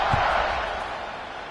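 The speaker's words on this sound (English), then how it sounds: "this crowd is buzzing after that last score." Football stadium crowd at a Florida vs Ole Miss game buzzing after a score, a dense, steady roar of many voices filling the space, with a commentator talking over it.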